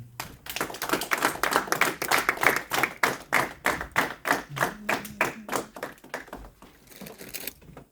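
Church congregation clapping in unison to acclaim the word of God, a fast, steady rhythm of loud, close hand claps that slows and thins out toward the end.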